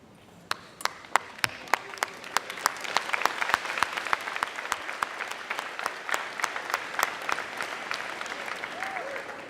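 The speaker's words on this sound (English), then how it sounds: "let me ask our class to please rise, turn, and give a round of applause" A graduating class at the Swampscott High School 2016 graduation exercises rises and applauds the people who supported them, starting with a few scattered, sharp claps that quickly swell into steady, dense clapping filling the hall.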